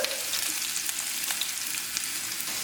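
Sliced onions frying in hot coconut oil, a dense, steady crackling sizzle close up with scattered pops and light stirring over the short stretch.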